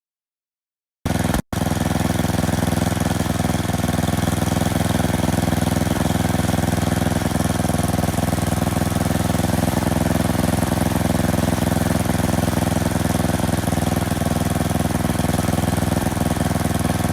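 A small engine with a newly replaced carburetor runs after a brief silence, a loud, close, continuous mechanical drone that holds steady throughout with no talking.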